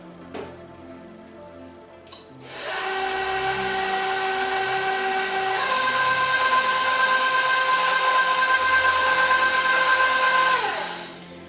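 Electric hand mixer beating half moon cookie batter in a bowl, whirring up to a steady high whine that shifts pitch once midway and then cuts off after about eight seconds.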